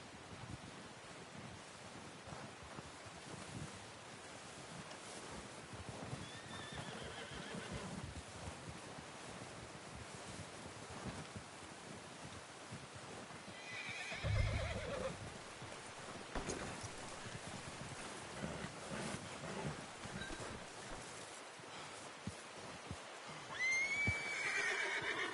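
A horse whinnies in a video game, in the middle of a quiet outdoor scene, with a soft wind-like hiss throughout and a few scattered faint noises.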